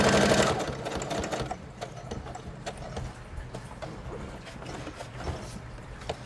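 A sewing machine stitches a pocket, its rapid mechanical running continuous and fairly close, beginning louder and settling into a steady chatter.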